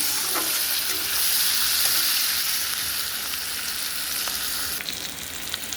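Kudri fries with salt and turmeric, giving a loud, dense, continuous sizzle and a few faint scrapes of stirring, with no speech.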